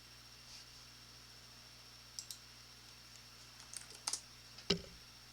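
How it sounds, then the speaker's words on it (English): Quiet, sparse clicks of a computer keyboard being typed on, a few isolated keystrokes and short bursts over a faint steady background hum. "I'm typing the post."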